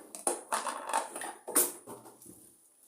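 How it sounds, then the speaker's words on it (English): Beans being pounded in a mortar with a pestle, close and fairly loud, several uneven crushing strikes followed by softer grinding. "This is my mortar and my pestle."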